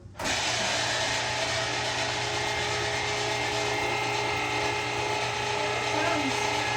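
Meat grinder auger grinding pork for a second pass into sausage, a loud steady motorized whir with a constant mechanical hum and grinding rattle that starts abruptly and runs throughout.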